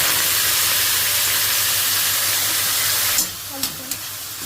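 Vegetables for veg fried rice hit hot oil in a pan, giving a loud, broad, steady sizzle that dominates for three seconds, then drops sharply into softer hiss with a few clinks of stirring.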